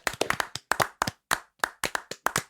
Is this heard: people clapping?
yes